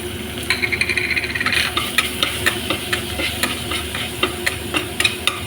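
Kashmiri chili powder and garam masala sizzle with tomato ketchup in a pan for paneer butter masala, a steady close frying hiss broken by repeated sharp scraping and stirring clicks.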